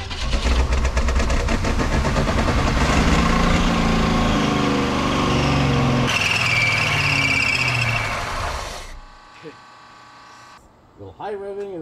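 A 1980s gold Pontiac Trans Am that sat in the woods cranks and runs loudly and roughly, then the noise cuts out abruptly near the end, with a voice talking briefly afterward.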